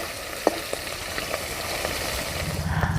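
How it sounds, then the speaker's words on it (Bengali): Jiol fish frying in hot oil in a village-style kitchen, giving a faint, steady sizzle with a few sharp pops and spits. "দেখো কীরম চচ্চড় একটা শব্দ উঠছে"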